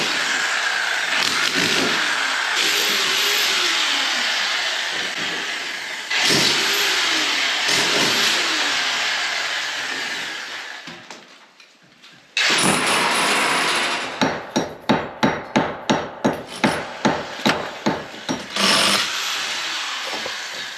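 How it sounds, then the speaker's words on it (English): A drill bores a ventilation-fan hole through a round turret roof, a harsh, loud, close grinding roar that surges and fades over several stretches. It then breaks into a quick series of rhythmic pulsing bursts near the end. "they're drilling a hole for the ventilation, the fan that will be above the shower"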